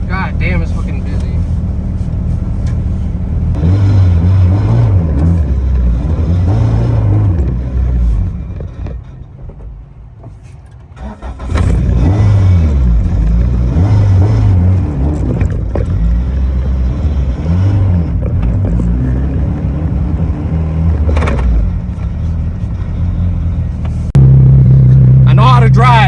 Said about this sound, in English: I know how to drive, it's just that this car doesn't want to stay alive.